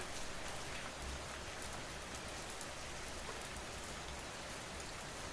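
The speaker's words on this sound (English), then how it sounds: "The rain keeps falling." Rain falling at night, a dense, steady patter close by with no pauses and no voices.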